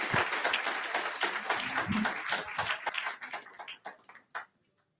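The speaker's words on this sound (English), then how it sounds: "Can we clap it up just one more time for Dr. Lester, please?" Audience applause for Dr. Lester at a West Louisville event, dense clapping from a crowd that thins into scattered individual claps and fades to silence.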